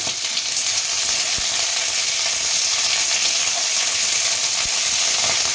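Peas, green chillies and cabbage frying in a pan for egg chow mein make a loud, continuous close-up sizzle with a few faint stirring clicks, and no voices.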